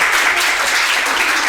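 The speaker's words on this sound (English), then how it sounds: "one more clap." Loud, dense clapping from a live studio audience at a branded live-stream event, sustained and close with no talk over it.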